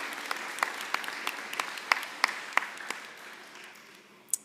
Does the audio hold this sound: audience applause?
yes